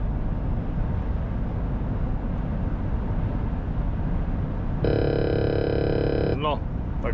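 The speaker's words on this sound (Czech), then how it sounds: "Tady máte zvuk přejetí čáry, ten je teda jako hodně silný." A new Mercedes Actros L truck cab sounds its lane departure warning, a loud steady electronic tone of about a second and a half over constant engine and road rumble, followed by a short rising chirp.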